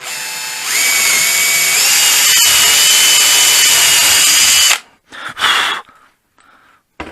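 A power drill whines loudly and steadily for several seconds as it bores into a 2x4 for an ice fishing tip-up, then cuts off, followed by a few short bursts.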